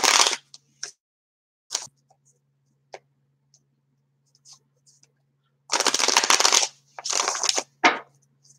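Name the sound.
shuffling and drawing Angel Tarot cards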